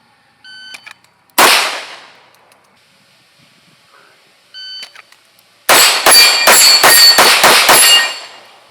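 Gunshots ring off a Texas Star steel target, with one loud shot and clang early, then a rapid string of six or seven sharp metallic hits in quick succession, each leaving a bright ringing tail.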